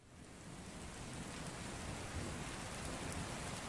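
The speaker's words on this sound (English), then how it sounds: "A storm rolled around and knocked out the power." Steady heavy rain during a thunderstorm, a dense broadband hiss that swells slightly in the first second and then holds at an even level, with no distinct thunderclap and no voices.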